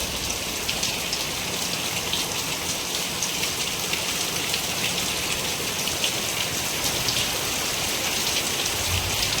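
Heavy rain pours down outside a house, a dense, continuous, even hiss of falling water that stays loud and unbroken from start to finish, with no talking.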